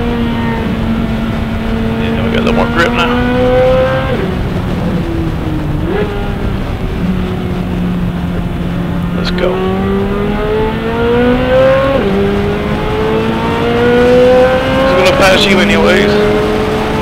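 Race cars at Road Atlanta, recorded on board while overtaking a Honda Civic, with a loud, steady engine roar and rising and falling gear-change pitch sweeps. Several upshifts come in repeated cycles, close and continuous throughout.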